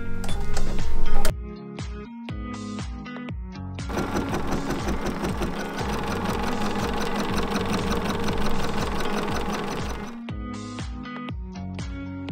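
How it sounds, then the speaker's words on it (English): An embroidery machine stitches a placement line for fabric A on hooped cutaway stabilizer, a steady rapid mechanical chatter running for several seconds between short bursts of music, close and fairly loud. "we're going to do stitch sequence 1, which will give us a placement line for fabric A"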